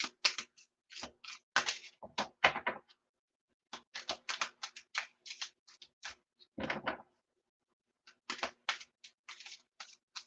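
Tarot cards being shuffled by hand, heard as bursts of crisp, close riffling and tapping in quick clusters separated by short silent pauses, fairly faint overall.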